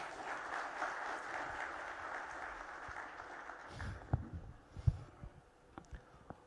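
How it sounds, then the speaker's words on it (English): Audience applause at a stage event honouring Lieutenant General K.T. Parnaik, a dense even patter of many hands that fades out, followed by a few scattered louder claps and bumps. "Big round of applause."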